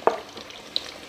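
Garlic cloves, small red onions and pearl onions fry in fat heated to 150-160 degrees with a soft, steady sizzle. One sharp clink comes near the start.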